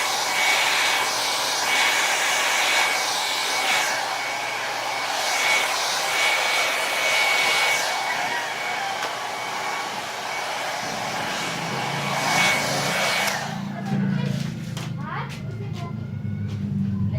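A heat gun reheats the board of an Epson L120 printer, giving a loud, steady blowing roar that runs for most of the time before cutting off near the end, with a person talking at times.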